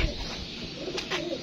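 A pigeon coos softly close by, a brief low murmuring call heard faintly over background noise with a short brighter rustle near the end.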